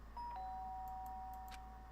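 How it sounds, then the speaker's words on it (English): In Danganronpa: Trigger Happy Havoc, a video game doorbell sounds as a clear electronic ding that holds as one long steady tone against a constant low hum, with a few soft clicks near the end. "The sharp sound of the doorbell pierced my sleeping haze and pulled me back to the real world."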